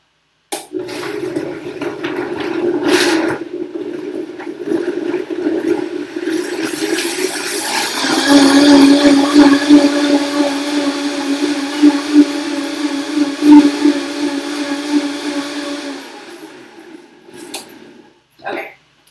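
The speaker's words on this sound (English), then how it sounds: "We got our kale salad about to be blended." A blender whirs through a kale salad with a cup of water, a loud steady motor drone that rises in pitch as it runs, then stops abruptly.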